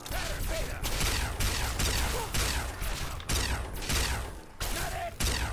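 Rapid gunfire in the Fallout 3 video game, with close, loud shots arriving in a regular rhythm of about a dozen sharp bursts, each followed by a short rumbling tail.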